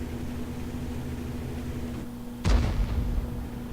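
Single deep boom of an artillery shell fired from a Conqueror Gun Carrier in a tank video game, heavy low thump followed by a rumbling tail over a steady engine hum.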